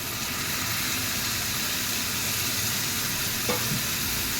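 Onions, drumstick pieces and tomatoes fry in a hot pan with a steady, close, even sizzle and hiss throughout, with one brief utensil knock partway through and no talking.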